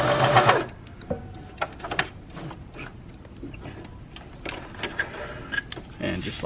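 A home sewing machine stitching fabric as it feeds evenly, a steady close mechanical clatter running through the clip with a louder whir at the start, while a person talks over it.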